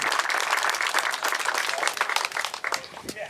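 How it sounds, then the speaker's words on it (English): Outdoor crowd at a Minnesota car show breaking into loud, dense applause that holds steady and then thins out toward the end, with a few voices mixed into the clapping. "Give yourselves a round of applause"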